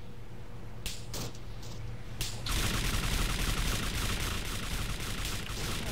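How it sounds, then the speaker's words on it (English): A heavy, sustained barrage of gunfire in a military combat video game, with a few sharp shots early on, then a dense, continuous roar of overlapping shots and rattling that fills the rest of the stretch at steady loudness. "that is quite the barrage"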